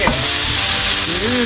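Ginger goes into sizzling Ginataang Kalabasa, squash simmered in coconut milk, producing a loud, dense, continuous frying hiss up close, briefly stirred, with no pauses.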